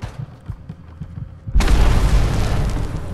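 A fragmentation grenade in Fallout 4 goes off with a sudden loud blast after a quieter stretch of low thumps, then a sustained roaring, crackling aftermath that fills the rest of the moment.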